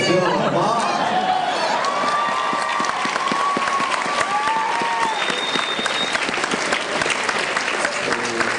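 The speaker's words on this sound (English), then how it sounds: "Please give them another round of applause." Audience at a Phoenix Comic Con 2012 voice actor Q&A panel applauds steadily throughout, dense clapping filling the hall with crowd murmur mixed in and a few higher tones sliding through.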